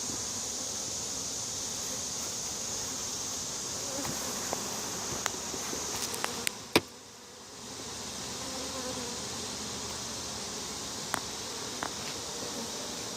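Honeybees drone steadily around an open hive, a dense, continuous buzz close by with a few sharp clicks and taps.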